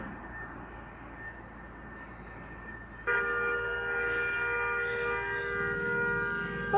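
A low rumble runs under everything, then a loud, steady train horn in a truck simulator game starts blaring partway through and holds to the end.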